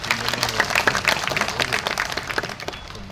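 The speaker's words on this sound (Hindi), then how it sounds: "हम बहुत सारी तालियों से इनका शुक्रगुजार करेंगे" Audience applause at an Eid Milan gathering of a Muslim advocates' welfare association, thanking the organisers: a steady patter of many hands clapping for about three seconds, fading slightly toward the end with faint voices beneath.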